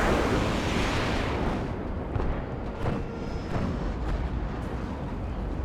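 Airstrike explosions sound in the Warno military strategy video game as a dense, continuous low rumble and roar. Deep booming carries throughout, with faint sharper cracks layered over the top.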